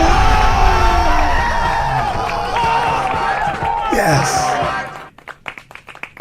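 A crowd cheers, whoops and applauds in a loud, sustained roar of voices and clapping that cuts off abruptly near the end, leaving a few scattered claps; a single voice briefly speaks over it.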